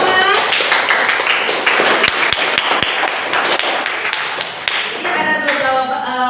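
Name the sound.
class applauding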